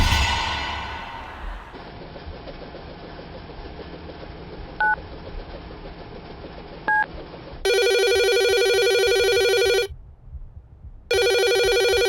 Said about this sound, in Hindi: क्या बात है निरंजन, क्यों फोन करते रहते हो तुम यहाँ पर?